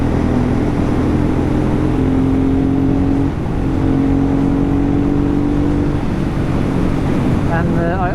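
Honda Transalp converted to supermoto riding twisty roads, its engine droning steadily with shifting pitch under constant wind rush, loud and close throughout, with a voice briefly heard near the end.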